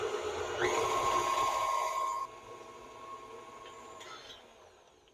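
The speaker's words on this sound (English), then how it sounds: "I'm going to beat these until thoroughly combined" An electric mixer beats egg yolks with vanilla for biscuit dough, giving a steady whirring motor hum that runs for about two seconds. A quieter, softer hum follows and gradually fades.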